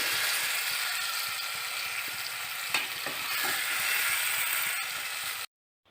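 Cumin and spices frying in hot oil, a loud, continuous sizzle with a few stirring scrapes, ending abruptly in silence.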